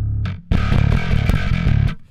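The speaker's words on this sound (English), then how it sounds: "So that's the sound of things without any sort of cab sim." Heavily distorted bass through a Darkglass B7K Ultra plugin with no cab simulation, a short stab then a dense, fizzy riff of quick repeated notes, raw and buzzy, loud and close with no talk.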